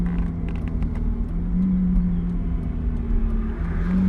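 A car passing on a race track with cones, a mid-pitched engine drone that rises and eases as the vehicle moves by, steady and fairly close, with no voices.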